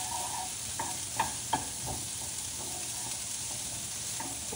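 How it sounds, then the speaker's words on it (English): Celery and onions sautéing in butter in a pan give a steady, close sizzle, with a few sharp clacks of a utensil stirring through the vegetables. "gonna saute the celery and the onions"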